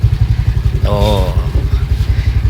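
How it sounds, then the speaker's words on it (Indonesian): An old motorcycle idles while warming up, its engine putting out a loud, steady, rapid chugging pulse, with a brief voice heard over it partway through. "kita sambil manasin motor"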